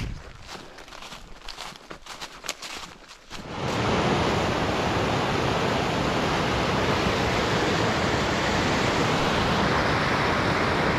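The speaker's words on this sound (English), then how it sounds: "it's a major river here, and you know, this fall is not marked anywhere" Stanburne Fall on the North River in Nova Scotia, an unmarked waterfall reached by a logging road, first faint behind a few footsteps, then a steady, loud, full roar of falling water that holds to the end.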